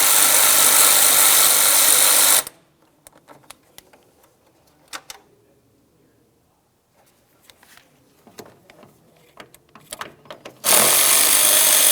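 Work on the 8mm fan shroud mounting bolts of a 2009–2019 Ford Flex during a radiator replacement. Loud sustained mechanical bursts open and close the stretch, and sparse ratchet clicks and taps fill the quieter middle.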